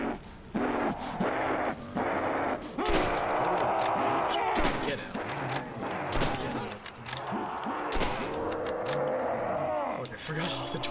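Bursts of gunfire from the Black Ops 1 Zombies map Der Riese, with loud sharp shots in quick rapid runs and single cracks scattered throughout, mixed with game sounds and someone talking over them.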